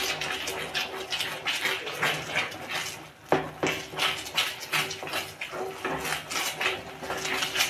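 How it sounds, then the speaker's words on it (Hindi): Halwa is stirred in a cooking pan on the stove: repeated scraping and clinking of a spoon against the pan in an uneven rhythm, close and moderately loud, with some watery bubbling. "इसी तरह से चलाते हुए आपको पकाना है इसे"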